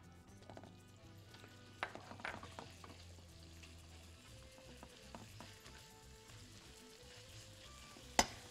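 Meat and spices sizzling in butter in a hot pan, a quiet continuous fry with occasional stirring clatter and a sharp utensil knock near the end.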